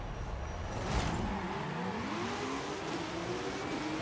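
A 2016 BMW M4 in the racing game Forza Horizon 5, tuned to S2 class, accelerates with a rising engine whine that climbs in pitch through gears, moderately loud and without voices.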